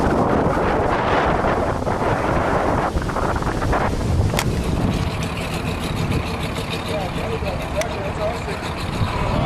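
Strong wind buffets the microphone aboard a boat out on Lake Simcoe, a loud, continuous roaring gust with splashing water and a few sharp knocks.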